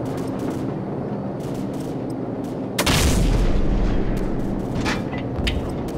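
Heavy booming explosions from AC-130 gunship fire in Call of Duty 4 erupt mid-clip after a stretch of rumbling engine drone, with a few sharper blasts following as the roar fades.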